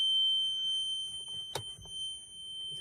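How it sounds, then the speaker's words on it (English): The dash of a 2008 Bryant 210 bowrider emits a continuous high-pitched electronic beep after the key is turned, holding steady throughout with faint clicks and handling noises underneath. "put up with that beep sound just a little bit longer"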